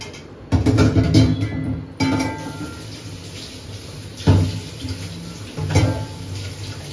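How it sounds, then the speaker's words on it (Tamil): Water used to rinse a mixer jar is poured into a cooking pot while making chicken paya, splashing in a few loud bursts with quieter trickling between them. "கொஞ்சோண்டு மிக்ஸி கழுவுன தண்ணி ஆட் பண்ணிக்கலாம்."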